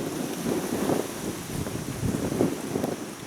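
Gusty wind outdoors buffets the microphone in a steady, loud rumble that swells and eases in waves over a few seconds, near a volcanic eruption site at Leilani Estates, Kupono and Moku Street, Hawaii.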